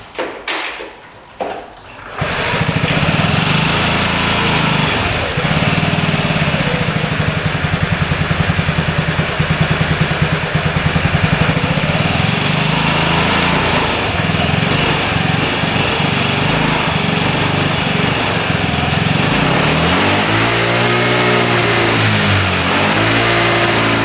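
An old scooter with its original carburetor refitted on a new boot starts after a brief rattle, then runs loud and close with a buzzy, steady idle and occasional revs that rise and fall near the end.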